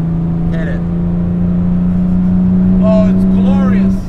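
A modified 1960 Aston Martin DB4 Series II engine drones steadily and loudly under hard acceleration, a strong continuous tone throughout, with brief voices breaking in over it.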